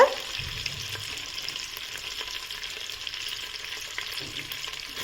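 Pure butter melting in a hot pan gives off a steady close sizzle with faint crackles and a few soft stirring touches throughout, with no voices.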